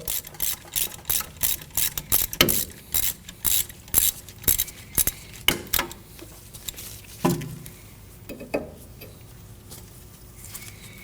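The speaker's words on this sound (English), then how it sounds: "we find the ABS sensor has an 8 millimeter bolt. Loosen that up." Quick ratchet clicks from loosening the 8 mm bolt on the rear ABS wheel speed sensor of a 2015-2022 Chevrolet Colorado. The clicks come in a steady train of close, crisp bursts, then slow to a few scattered ones.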